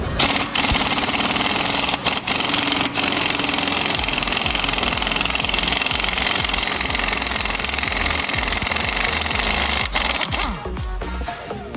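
A 1/2 inch impact gun hammers out the gear bolt on a WABCO air compressor, a loud, close, continuous rattling burst that runs nearly twelve seconds with a few brief breaks before it tapers off.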